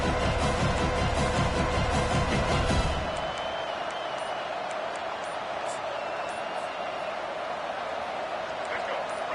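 Stadium crowd noise in a college football video game against Florida, a loud dense roar with cheering that stays steady throughout, a rhythmic chant or clapping at the start before settling into a continuous wash.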